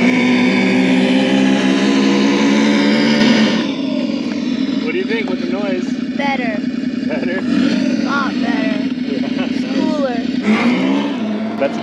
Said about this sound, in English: When it's making that revving noise, it actually feels like you're going faster.